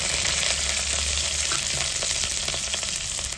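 Onions frying in oil with mustard seeds and urad dal, a dense continuous sizzle with light stirring, close and steady, without voices.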